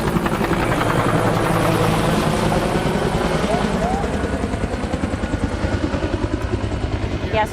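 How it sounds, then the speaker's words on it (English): A firefighting helicopter flies in over a brush fire near homes for a water drop, its loud rotor thump beating steadily and pulsing stronger toward the end, with voices talking underneath. "We have another helicopter coming in right here."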